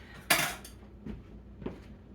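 A dish clatters loudly into a kitchen sink, followed by two softer clinks of crockery against metal and a hushed pause between them.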